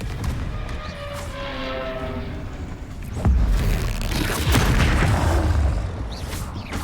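Blasting-spell explosions from a Harry Potter video game: loud booming blasts and crackling bursts stacked over a busy game soundscape, with a deep heavy hit about halfway through.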